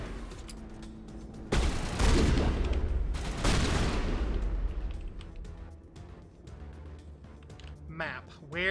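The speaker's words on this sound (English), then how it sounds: "Shotgun." Shotgun blasts in a sci-fi alien-themed video game, two heavy broadband booms close together around the middle, loud and near, with a player's voice talking faintly before and after.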